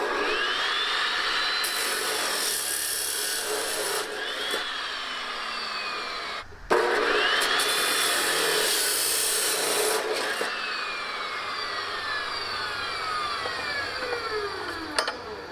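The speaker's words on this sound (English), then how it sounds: "let's get the cutter out here. Cut them suckers to length, drill some holes in them." Metal pieces being cut and drilled for a 1972 Cutlass give a steady, harsh rasping and grinding with rising and falling whine, broken by a brief pause midway before resuming.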